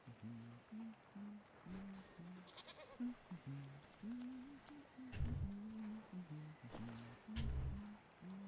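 Several goats bray repeatedly in a fantasy crafting game, a steady run of short overlapping bleats at moderate distance over faint rustling and occasional low thumps.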